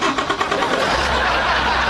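A diesel engine turns over and settles into a loud, close, steady rumbling run, with a rougher burst at the start.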